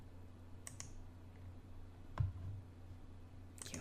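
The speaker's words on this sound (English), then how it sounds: "If I type in spiritualism," Soft, sparse clicks of a computer keyboard being typed on, a few faint keystrokes scattered over a low steady hum.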